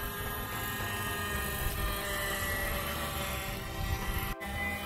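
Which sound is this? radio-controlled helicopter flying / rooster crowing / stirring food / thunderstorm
radio-controlled helicopter flying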